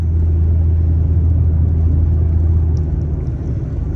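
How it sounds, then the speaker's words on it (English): A car rolls along an icy road packed with five to six inches of snow, giving a steady, close low rumble and engine drone throughout with no voices. "now I'm driving on what feels like a sheet of ice, 5-6 inches of snow"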